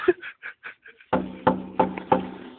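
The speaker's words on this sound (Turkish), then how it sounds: "Buyurun beraber pencereyi tıklatalım." A few faint soft sounds, then four firm knocks on a window spaced roughly evenly, each one sharp and close with a short ringing tail.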